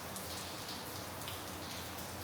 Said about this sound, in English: it's literally raining inside the house, and the water is coming in more heavily than expected